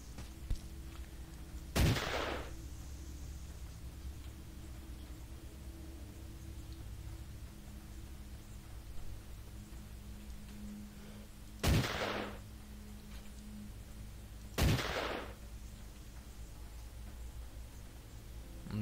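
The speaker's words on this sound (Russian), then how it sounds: "Да, даже пауков стреляю с сайги." Three loud, isolated shotgun blasts from a Saiga in Stalker Online, spaced far apart over a low steady background hum, each a sharp crack with a short decaying tail.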